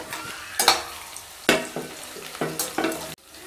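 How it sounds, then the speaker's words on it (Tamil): Onion sautéing with curry leaves, ginger and green chili for samba wheat rava upma gives a sizzle broken by several sharp scrapes and clacks of a spatula stirring in the pan, close and irregular. "இது கூட கருவேப்பிலை, இஞ்சி, பச்சை மிளகாய் இதை சேர்த்து நல்லா வதக்கிடலாம்."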